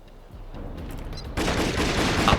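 Video game gunfire in Jet Li: Rise To Honor crackles in a rapid fusillade, growing louder and denser halfway through, with dense bursts of shots and no talk.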